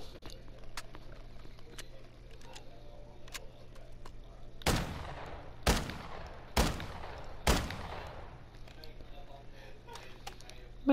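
Four sharp, booming shots from 12 gauge dragon's breath shells, fired from an underslung cluster flare gun, come about one second apart after a quiet stretch, each with a short echoing tail.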